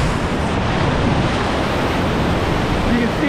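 Whitewater rushing over a small waterfall and rapids on the Chattooga River, Section 4, a steady loud roar of churning water filling the whole moment without a break.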